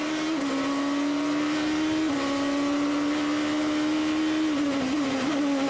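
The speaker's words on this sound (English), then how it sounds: "On board with Lucas de Grassi, Brazil, in the Durango car." On-board engine of a GP2 Durango race car at the 2006 San Marino round: a loud, steady, high-pitched roar with brief dips at gear shifts, continuous throughout.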